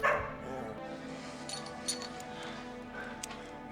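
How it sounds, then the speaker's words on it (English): A dog barks in a John Wick (2014) film scene, short yips and barks over a steady bed of music and dialogue, moderately loud but partly masked. "Another dog."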